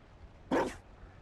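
A single sharp dog bark from a dog in the Dragon Age: Inquisition video game, one short close yelp breaking a quiet background.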